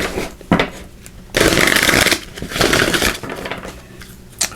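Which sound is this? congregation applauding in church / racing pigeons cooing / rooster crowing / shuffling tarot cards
shuffling tarot cards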